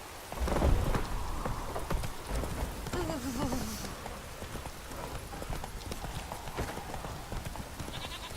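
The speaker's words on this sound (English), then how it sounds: "it's drizzling" Rain falls steadily with a low rumble of thunder in The Witcher 3 as a horse's hooves clop along underneath, a soft, continuous wet hiss.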